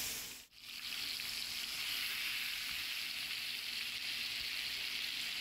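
Chicken pieces frying skin side down in a pan give a steady, close, loud sizzle that runs throughout after a brief dip near the start.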